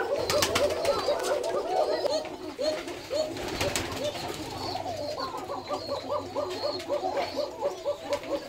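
Black Koka pigeons coo in repeated rolling phrases close by, several birds overlapping steadily with a brief flutter or clatter partway through.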